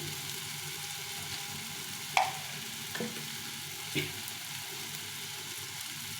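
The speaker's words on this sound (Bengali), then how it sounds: "হলুদ দিয়ে এটাকে ভালো করে ভেজে নেব" Pumpkin with chickpeas and peanuts fries in a pan with cumin powder, chili powder and salt, giving a steady soft sizzle throughout, broken by three brief clinks of a stirring utensil against the pan.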